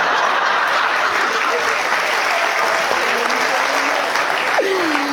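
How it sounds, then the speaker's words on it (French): A comedy show audience applauds steadily and loudly for the whole stretch, dense clapping filling the room while a voice speaks faintly over it. "On est d'accord? Par applaudissement."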